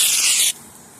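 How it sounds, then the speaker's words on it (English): A loud, close burst of aerosol bug spray, a steady hiss lasting about half a second that cuts off abruptly into quiet room tone. "Uh-oh, I'm about to run out of spray."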